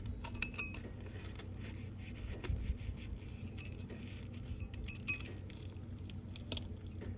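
Knife and fork clink and scrape against a plate while cutting into a baked stuffed pork chop, a steady run of light metallic taps and soft tearing, close and quiet.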